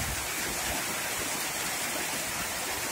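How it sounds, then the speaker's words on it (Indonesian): The Citarum River in flood, about 3 km upstream of the Walahar Dam in Karawang after continuous rain, roars as a loud, unbroken rush of water that fills the whole span with no voices. "Dan juga sungainya meluap nih, Sungai Citarumnya nih."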